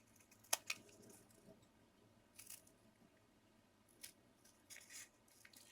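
Scissors snip a few sharp cuts, then trim in short scattered bursts around a small paper piece for an Easter card, close and quiet, with no talking.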